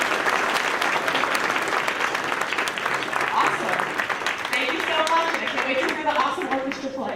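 Audience applause at a school spring concert, sustained dense clapping from a crowd, with voices audible beneath it toward the end as it begins to thin.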